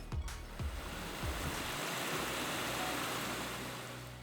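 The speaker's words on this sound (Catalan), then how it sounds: "Relaxa sentir el soroll de l'aigua de fons." River water rushes through a narrow rocky gorge, small cascades dropping from pool to pool in a steady broadband wash, with a few low thumps at the start.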